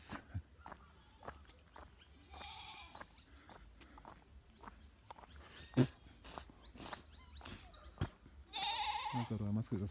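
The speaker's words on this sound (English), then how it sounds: "More goats." Goats bleating at night during an evening walk near Malton, Manchester, Jamaica, a few short calls near and far amid night insects, footsteps and brief talk.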